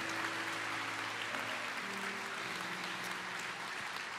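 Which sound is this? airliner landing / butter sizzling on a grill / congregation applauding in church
congregation applauding in church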